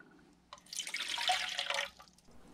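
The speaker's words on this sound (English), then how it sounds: "So we're gonna need to add some water." Water poured into a beaker, a close, bright gushing splash that starts abruptly, swells for about a second and a half, then trails off, with no speech over it.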